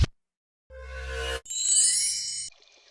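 An organic glitch sample in music software: a sharp click, then a buzzy tonal burst, then a bright chirping, cricket-like tone with water-drop pings, fading into a soft sparkling tail. There is no talking.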